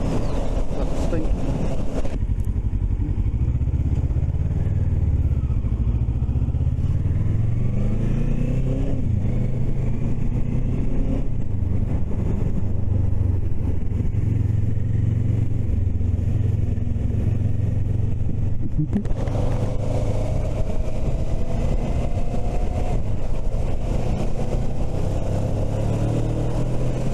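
Motorcycle ride around Norwich: a steady low engine drone with shifting pitch as the bike changes speed, heavy wind buffeting across the microphone, and intermittent speech over the riding noise.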